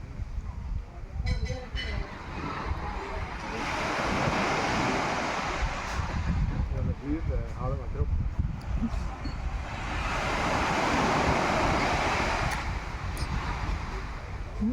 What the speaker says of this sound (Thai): เย็นสบาย ลมทะเลพัดมา